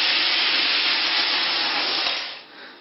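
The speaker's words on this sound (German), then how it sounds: "Jetzt lösche ich das Ganze mit einem kleinen Schluck Geflügelbrühe ab." Loud, steady hiss of poultry broth hitting a hot pan of caramel and roasted chestnuts, broad and close, easing off near the end.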